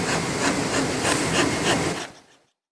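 A hand saw cuts a wooden board along a marked line between the face and a beveled surface, a steady close rasping of rapid strokes for about two seconds before stopping and fading out.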